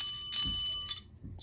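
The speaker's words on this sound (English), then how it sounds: "It's got a little fancy little bell" Small metal bell from the tin of the Pit card game, struck twice with bright ringing tones, followed by a softer third ding, close and clear.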